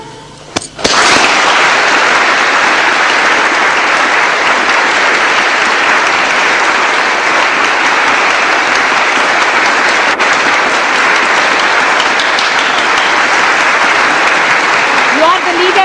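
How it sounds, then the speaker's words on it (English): Sustained, loud applause from a large audience at a Sahaja Yoga morning meditation program in Europe, a dense wash of clapping that fills the hall steadily from start to finish. "You are clapping for yourself."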